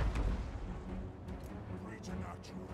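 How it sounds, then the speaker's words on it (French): Cannon fire booms in the Total War: Warhammer video game, a steady low rumble of distant artillery with a few sharp reports, heard under continuous game noise and talk. "ils sont en train de nous tirer dessus avec leurs canons"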